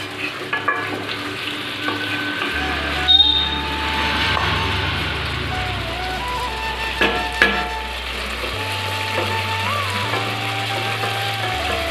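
Chicken sautéing in a pan for a chicken and potato curry makes a loud, steady sizzle, with occasional sharp clinks of a spoon against the pan and a low hum underneath.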